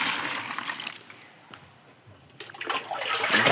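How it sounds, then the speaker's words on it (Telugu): Water poured out of a drum in a household prank, heard as a close, loud broadband splashing rush that drops away briefly in the middle and then surges back. "నేనైతే ఇలా నీళ్ళు వేస్తుంది."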